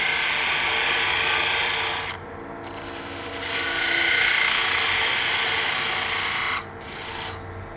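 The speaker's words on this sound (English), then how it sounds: "I'm using the Easy Wood parting tool." Easy Wood parting tool cutting into a wooden Christmas orb on a spinning lathe, a close, loud, continuous rough scraping and whirring that briefly drops and rises as the tool is pressed and eased.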